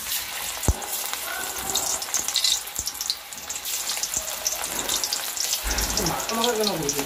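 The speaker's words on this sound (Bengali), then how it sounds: "চিংড়ি মাছটাকে ম্যারিনেট করে সব রাখা ছিল, আর এবার ভাজা চলছে।" Marinated prawns frying in hot oil for pakora, a steady dense sizzle with occasional stirring clatter and soft bubbling, continuous and close.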